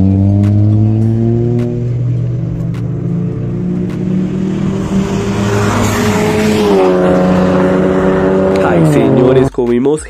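A tuned Volkswagen Golf GTI MK7.5 accelerates hard, its engine note climbing steadily in pitch, loud and close, with a brief dip near the end as it shifts gear.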